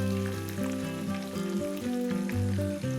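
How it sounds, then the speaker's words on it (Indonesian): Purple eggplant fries in hot oil over high heat, a loud, constant crackling sizzle up close with no voices, and a faint hum carries through underneath. "kita goreng terong ungu dengan menggunakan minyak panas"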